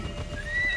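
A horse in the video game Assassin's Creed Odyssey gives a single clear neigh, a short whinny rising in pitch, heard alone.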